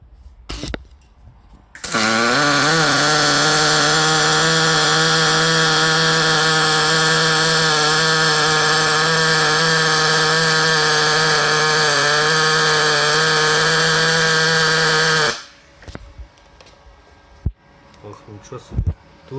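A Magnum MIG 222 semi-automatic welder running a MIG weld on 2 mm metal with argon at about 74 amps, a steady loud buzzing hum held for roughly thirteen seconds after a short start, then stopping, with faint handling sounds.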